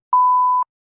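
A single steady electronic shot timer beep sounds for about half a second, clean and moderately loud, with silence before and after.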